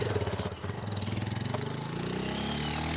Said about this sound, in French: La moto part en éclaireur.